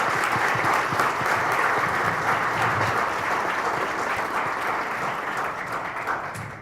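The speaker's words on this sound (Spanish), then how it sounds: "Un aplauso, por favor." An audience at an evaluation forum on results-based budgeting claps steadily, a dense, even wash of many hands that holds strong and then slowly tapers off toward the end.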